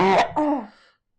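One deep, rough cough from someone with COVID comes in two close bursts, near and loud, then fades out.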